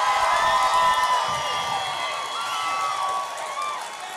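A rally crowd at the March for Life cheers and applauds, a broad roar of voices with scattered whoops and clapping, loud at first and easing off slightly.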